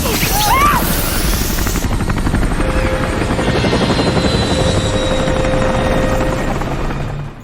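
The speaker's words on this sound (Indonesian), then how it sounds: "Helikopter yang tersisa berusaha menembak" Helicopter flying in a film scene, a loud continuous rotor chop and turbine roar filling the whole stretch, with a brief whistling effect near the start.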